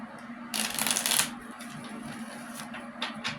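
Tarot cards riffle and shuffle in a dense, crisp burst lasting about a second, then a few lighter card flicks follow over a steady low hum.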